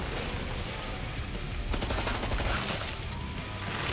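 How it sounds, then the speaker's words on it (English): Sustained Tommy gun fire in a video game, a loud, dense stream of rapid shots with no pause across the whole stretch, with no voices over it. "I just tore through 300 rounds of ammunition, Josh. Oh, that, yeah. That Tommy gun."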